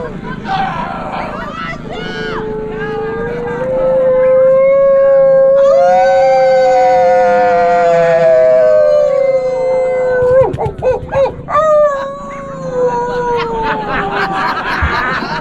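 A dog howls in a long rising and falling wail as a duet with a didgeridoo at an RV gathering in Quartzsite, loud and close, with laughter and crowd chatter breaking in near the end.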